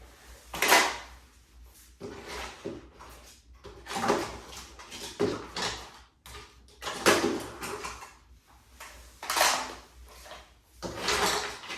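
A drawer in a master bathroom is repeatedly slid open and shut, giving a series of scraping, rattling bursts with items shifting inside, fairly close and unaccompanied by talk.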